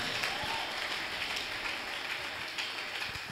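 Congregation applauding in church, a dense, steady wash of clapping lasting a few seconds, with faint voices mixed in.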